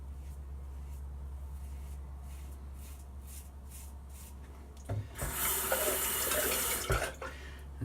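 Tap water runs and splashes in a sink while a razor is rinsed, a steady broadband rush starting midway and lasting about two seconds before stopping, close and fairly loud over a low background hum.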